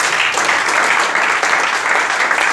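A church congregation claps and applauds in a steady, dense, loud wash that continues unbroken throughout.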